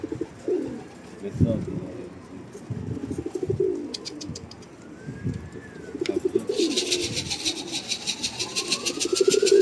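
Pigeons coo in low, repeated murmurs close by, with people talking intermittently and a bright engine-like whine rising in the background.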